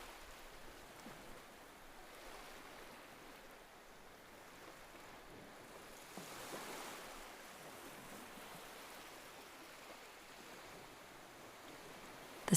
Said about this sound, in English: The rhythm of the waves continues, each one washing gently onto the shore